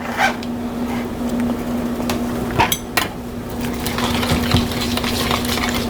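Egg mixture with garlic and onion stirred in a bowl for egg white bites, with close, steady scraping and clinking of a utensil against the bowl plus a few sharper knocks, alone without talk.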